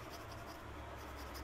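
A pencil scratches steadily against paper during an anime drawing, a quiet, continuous close-up rasp with faint rhythmic strokes.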